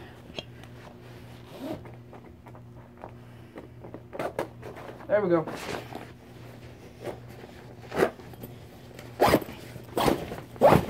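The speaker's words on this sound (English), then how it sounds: "Is there another zipper?" A zipper is pulled open in several short rasping bursts, with handling rustles and clicks in between and a brief spoken remark partway through.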